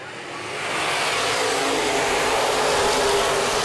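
Open-wheel modified race cars roar off together on the initial start at Baer Field Speedway, a loud, dense, sustained engine wash that swells within the first second and holds steady.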